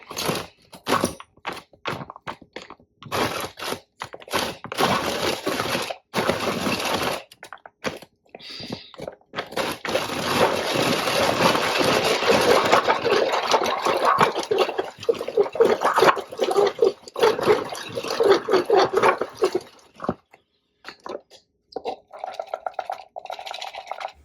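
Purple cabbage is chopped in a two-speed kitchen appliance, with loud whirring, crunching bursts that start and stop repeatedly, run steadily through the middle, then break into short pulses.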